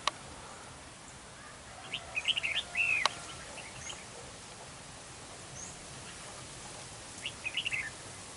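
Red-whiskered bulbul calling beside a bird trap outdoors, two short bursts of chirping notes heard at a distance over steady wind noise, with a sharp click between them.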